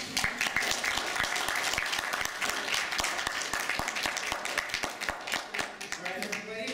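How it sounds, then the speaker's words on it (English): An audience at a talk on medical cannabis law and advocacy gives a steady round of applause, dense overlapping claps sustained from start to finish at moderate volume. "big round of applause for Lanny Swerdlow, everybody"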